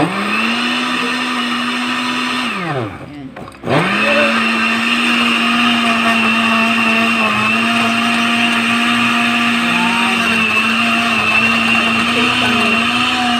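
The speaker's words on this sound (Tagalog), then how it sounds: "So, ito yung blender." A loud blender whirs steadily making a shake of pineapple, watermelon, mango and apple, briefly dips and bogs down as the load shifts, then spins back up to a constant high whine.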